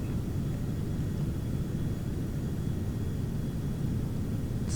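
Steady, loud broadband cabin rumble inside a fully loaded Premier jet (PRM1) carrying seven passengers and heavy fuel while climbing toward its 41,000-foot ceiling, continuous and unchanging throughout with no talk.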